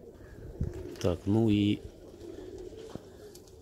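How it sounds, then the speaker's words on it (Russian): Large Baku pigeon gives a short, loud, throbbing coo close by, with a few soft flutters and thumps around it, while someone talks in Russian in the background. "Очень большой голубь, крупный."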